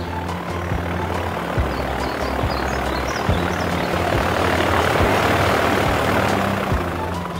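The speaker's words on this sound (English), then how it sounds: "The red plane is taxiing away from the runway." A steady, droning cartoon airplane engine rumbles continuously at close range as the plane taxis, with a low propeller-like hum and broadband roar holding level throughout.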